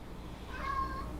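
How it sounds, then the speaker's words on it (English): A lonely cat gives one faint, thin meow over steady background noise. "Kitty, there's a kitty"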